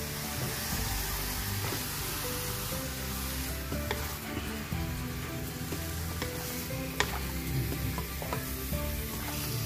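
About two kilos of beef frying with onions in a pan for kaldereta, a steady loud sizzle with stirring scrapes throughout, no talk.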